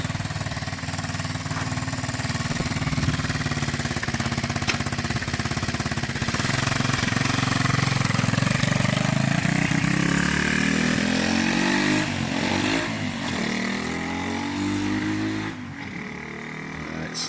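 A Honda XL125S motorcycle engine, just refitted with its carburettor, runs steadily close by, rumbling and revving slightly unevenly with a rough edge, then easing down toward the end.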